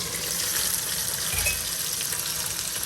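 Okra and other garden vegetables sautéing in a pan, a steady close sizzle and crackle of frying with a brief stirring clatter midway.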